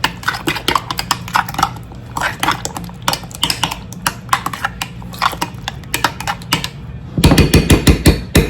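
A spoon or spatula knocks and scrapes quickly against a bowl while cream cheese and sour cream are mixed by hand, giving a steady run of close, sharp clicks and taps with no talking.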